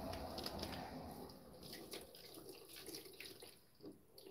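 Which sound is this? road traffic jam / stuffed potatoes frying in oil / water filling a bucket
water filling a bucket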